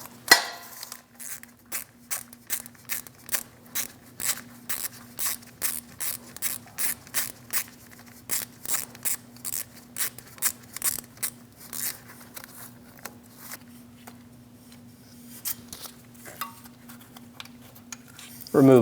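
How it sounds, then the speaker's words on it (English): A 10mm socket ratchet on a 3-inch extension loosening the crankshaft position sensor bolt on a 2016-2025 Chevrolet Malibu 1.5L, giving long runs of quick, crisp clicking strokes with a steady faint hum underneath. "Using a 10mm socket on a 3-inch extension, we're going to remove the bolt for the crankshaft position sensor"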